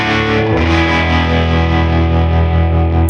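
Distorted 1960s-style electric guitar through an overdriven tube amp, one thick sustained chord ringing loud and saturated for about three seconds with no voices.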